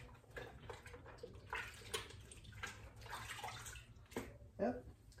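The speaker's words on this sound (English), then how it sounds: "I'm going to go ahead and I'm going to wash my hands with the water." Hands are washed with water poured from a small bucket, giving irregular splashes, trickles and drips that swell and fade close by over several seconds.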